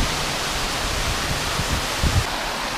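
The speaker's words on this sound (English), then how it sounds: "More waterfalls." Steady broadband rush of a waterfall beside a mountain trail on Mt Lincoln and Mt Lafayette in New Hampshire, continuous and fairly close, with a few faint low knocks near the end.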